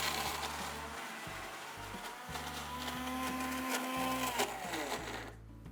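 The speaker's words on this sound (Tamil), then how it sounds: "அந்த மிக்ஸியில் அரைக்கிறேன்" A Preethi kitchen mixer grinder whirs in short repeated bursts grinding garlic chutney, its motor whining higher as it spins, loud and close with rattling from the jar.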